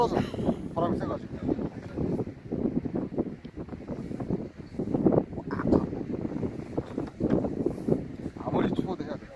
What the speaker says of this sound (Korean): 떨어져. 바람이 세가지고.